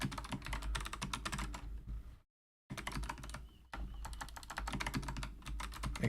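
Rapid, steady keystrokes on a computer keyboard while working in a game-engine editor, close and clear, with a brief silent pause in the middle before the typing picks up again; no voices.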